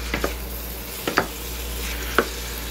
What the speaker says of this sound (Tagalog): Igigisa lang to hanggang sa mag golden brown.